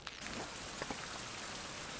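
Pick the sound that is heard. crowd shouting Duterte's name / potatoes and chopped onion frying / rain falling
rain falling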